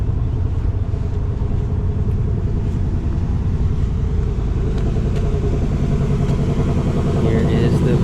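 Car pulling up on a street, a steady close engine rumble that continues throughout with no break.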